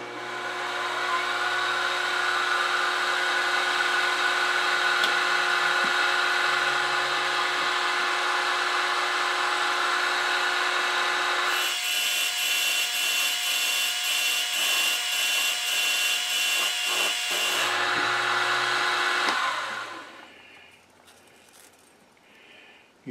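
A 5/16 carbide end mill cuts metal on a milling machine for a toolpost indicator holder, a steady whining hum with a harsher chattering stretch midway, then winding down to quiet near the end.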